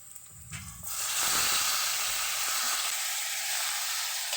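Chopped tomatoes drop into a hot pan with ginger and onion for a scabitsing tuyo dish, and a loud, steady sizzle bursts up and keeps hissing evenly with no one talking.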